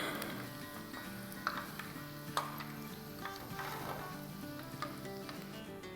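Small doughnut balls deep-fry in hot oil with a steady, dense sizzle and crackle, a few light clinks from a utensil popping out over the bubbling.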